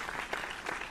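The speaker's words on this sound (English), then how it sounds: "A round of applause for my fellow graduates." Applause for graduates at a ceremony in the video game The Crooked Man, a short burst of steady clapping with no voices over it.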